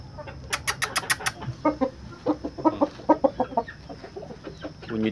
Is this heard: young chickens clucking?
yes